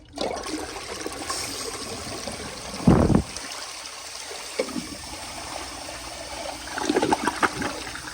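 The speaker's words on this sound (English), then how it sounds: "I'll flush it just one more time." A 1991 round Cisa toilet flushes a small blue rag: a steady rush of water with a loud gurgling surge near the start, then trickling and a second burst of swirling water toward the end.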